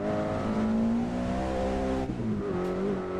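A race car in a video game lapping the Nordschleife, its engine note holding high and steady, then briefly dipping and climbing again around a gear change or corner, loud and continuous with no talking.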